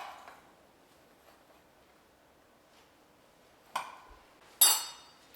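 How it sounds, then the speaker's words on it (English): Dry ingredients stirred in a mixing bowl, mostly quiet, then two short clinks of a utensil against the bowl near the end. "you're just going to go ahead and just mix it up a little bit"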